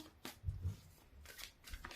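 Quiet riffling and soft slaps of cards being shuffled in two short bursts, close up and faint.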